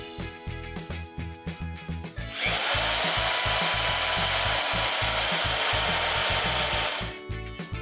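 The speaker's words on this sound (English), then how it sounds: "Drill each piece of styrofoam into the wood in each corner." A power drill drives long self-tapping screws through styrofoam into a wooden raft frame: a loud, close, sustained whirring grind of about five seconds, framed by rhythmic tapping before and after.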